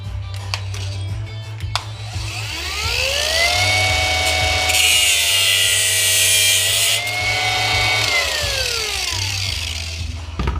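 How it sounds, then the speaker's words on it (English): An angle grinder cutting a part off a brass Delta kitchen faucet for scrap: loud whining motor that drops in pitch under load and grates against metal, then spins back up, close with no talk. "I'm gonna grind it right off"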